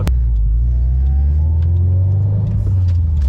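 A Subaru STI fitted with a big turbo pulls hard at full throttle, its deep, loud engine drone steady and rising from inside the car, with a sharp click at the start and no talking.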